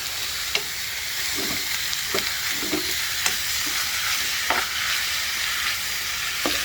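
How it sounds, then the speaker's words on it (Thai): Beef sizzling and stir-frying in a hot pan for a red curry with pickled bamboo shoots, a steady crackle broken by a few sharp scrapes and stirs of a utensil against the pan. "เอาเนื้อมารวนก่อนเลยครับ"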